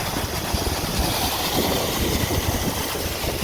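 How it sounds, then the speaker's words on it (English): John Deere 4030 tractor powering a Westfield auger that pulls wheat from a hopper bin, a steady loud engine drone mixed with rumbling, rattling grain conveyance, no voices. "So today we have the 4030 hooked up to the Westfield auger."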